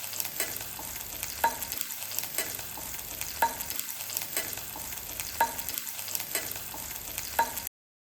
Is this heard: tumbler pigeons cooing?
no